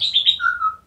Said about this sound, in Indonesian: karena di belakang saya ada burung, jadi dia cepat respon